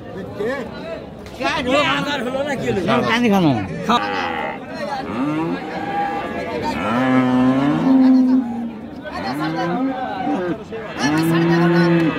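Friesian cows mooing at the Raniganj cattle market in Dinajpur, with several long, drawn-out calls overlapping across the clip. Nearby people talk and market chatter runs underneath.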